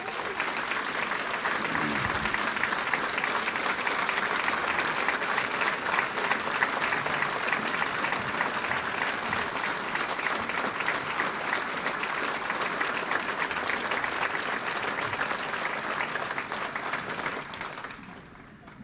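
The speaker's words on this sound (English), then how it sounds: "how about a round of applause for all the veterans?" A large crowd at a Boston Fire Department academy graduation gives the veterans a long, loud, sustained round of applause, dense clapping that holds steady for many seconds before fading out at the end.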